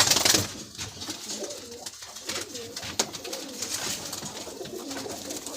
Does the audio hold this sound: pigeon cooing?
yes